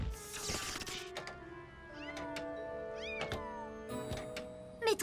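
Cartoon cats meowing in an animated superhero scene: several short rising and falling meows scattered over a few seconds, with light thunks and knocks between them.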